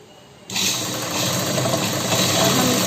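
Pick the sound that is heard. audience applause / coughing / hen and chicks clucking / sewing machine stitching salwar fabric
sewing machine stitching salwar fabric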